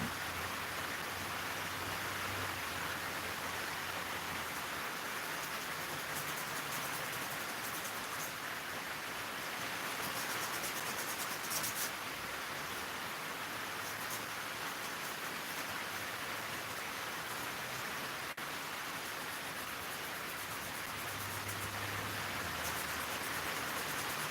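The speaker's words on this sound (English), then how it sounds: "You guys hear the rain? Yeah, you hear the rain, don't you?" Rain falls steadily for the whole stretch as a dense, even hiss with no breaks, and a faint low rumble comes and goes beneath it.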